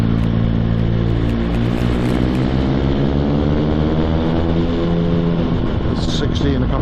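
A motorcycle in fifth gear at about 40 mph speeds up with a loud, smooth engine drone whose pitch climbs steadily over heavy wind rush. The sound is close and continuous.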